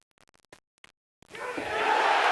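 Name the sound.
crowd reacting to a pool shot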